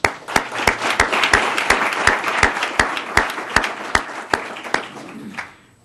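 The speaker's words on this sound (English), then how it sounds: "we'd like to offer up some applause for that support" A forum audience claps in steady, scattered rounds, individual sharp claps standing out, before the applause fades out at the end.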